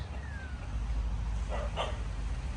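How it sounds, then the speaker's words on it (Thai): A dog near Mae Sot barks twice in quick, somewhat distant bursts over a steady low outdoor rumble. "หมาเห่ามันระแวงนะครับ"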